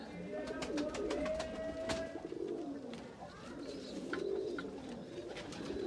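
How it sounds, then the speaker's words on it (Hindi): Khadi takhti breed pigeons, high flyer and breeder birds kept for sale in Faisalabad, coo softly in repeated low, rolling calls, several overlapping at moderate distance over quiet background noise. "खड़ी तख्ती का कबूतर है,"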